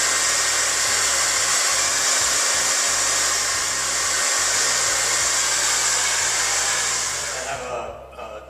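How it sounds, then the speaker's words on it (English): A hair dryer runs continuously at close range, drying a wall patch repair, holding a steady loud whooshing roar for about seven seconds before shutting off and winding down at the end. "I can use my hair dryer, dry out that patch"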